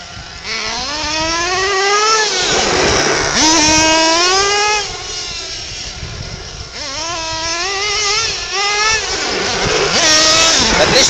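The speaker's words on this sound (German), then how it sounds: "Der Motor dreht ja weiter, ne?" A Losi LST XXL nitro RC truck engine, freshly tuned, revs up and down in repeated rising and falling whines, loud and close, with brief dips between bursts.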